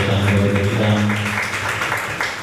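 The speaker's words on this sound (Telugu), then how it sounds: "గట్టిగా చప్పట్లు కొట్టి సంతోషాన్ని వెలుగుచుదాం." Crowd applause at the inauguration of a village chapel, a steady wash of many hands clapping continuously, fairly loud, with a low voice or hum faintly underneath.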